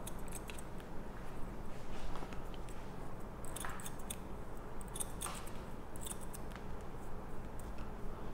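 Toothed thinning scissors snip through hair at the nape in quick clusters of crisp metallic clicks, close and fairly quiet over a steady background hiss.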